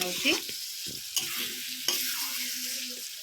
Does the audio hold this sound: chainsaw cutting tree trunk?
no